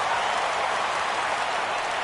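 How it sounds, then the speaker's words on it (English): Stadium crowd in a baseball video game rising for a full count, a dense, steady roar of cheering that fills the whole moment at high volume, with no talk over it. "Crowd gets up for the 3-2."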